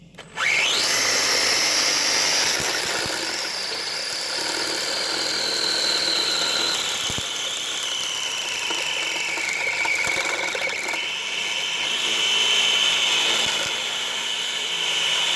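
Electric RC burnout car running flat out with a high, sustained motor whine that shifts pitch as it works its tyres against the rims, continuous and close with no talking.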